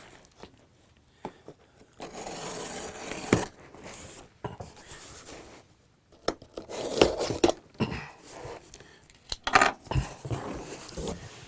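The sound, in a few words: cutting open an antenna box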